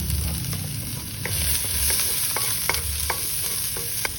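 Onions, tomatoes and ginger stirred and sautéing in a little oil, a steady close sizzle broken by scattered clicks and scrapes of a utensil against the pan, with no voices.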